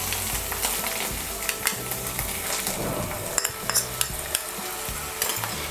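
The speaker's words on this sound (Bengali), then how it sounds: "মশলাটাকে একটু ভালো করে আমি কষিয়ে নেব" A spice paste of cumin, chilli and coriander powders with ground tomato sautés in a pan for Bengali doi katla, a constant low sizzle punctuated by repeated knocks and scrapes of a stirring spoon.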